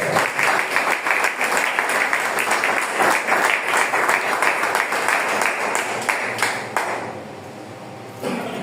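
A church congregation claps during a Spanish-language sermon on divine healing, loud rhythmic hand-clapping sustained for several seconds before thinning and dropping away near the end.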